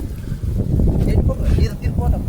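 Strong gusting wind roars against the microphone outdoors, a dense low rumble that stays loud throughout with brief flutters.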